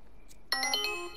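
A mobile phone ringtone bursts in suddenly during Marvel's Avengers gameplay, a bright melodic electronic ring that plays steadily for under a second with a faint background hum.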